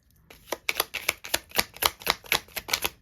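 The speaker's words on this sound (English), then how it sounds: "if you like to overhand shuffle like that, they do just fine" Cards being shuffled by hand in a quick series of crisp, rhythmic flicks and slaps, close and clear with no talking.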